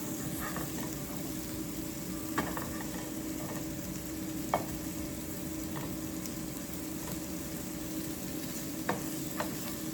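Onions and chorizo sizzle steadily in a pan, cooking for a chorizo potato omelet, a close, even frying hiss broken by a few sharp clicks of a utensil against the pan, with no talking.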